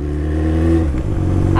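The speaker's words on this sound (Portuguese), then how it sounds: "Não dá pra me ouvir enquanto eu acelero e falo com vocês" Motorcycle engine, apparently a Yamaha XJ, revving loudly and close by, a steady strong growl that rises and then wavers near the end, with no talking over it.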